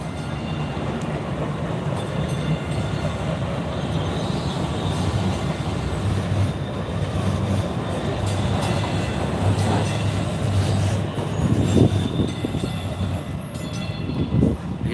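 A tram rolls past at a city tram station, a continuous near rumble of wheels on rails with rattling and faint squeals building toward the end, with no talk over it.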